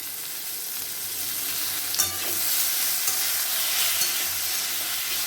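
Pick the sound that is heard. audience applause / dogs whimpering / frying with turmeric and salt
frying with turmeric and salt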